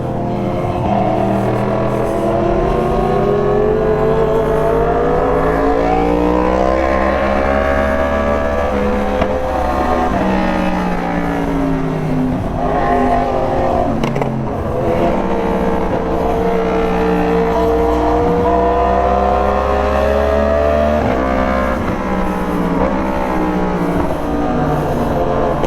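A Kawasaki Z1000 motorcycle engine roars under load while being ridden, its loud, close pitch climbing and dipping through repeated revs and gear changes in a sustained stretch with no voices.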